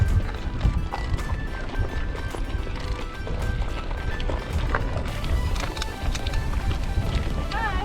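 Hooves of a group of horses clop on a track amid gusty outdoor rumble and wind, with people talking nearby as e-bike riders pass them.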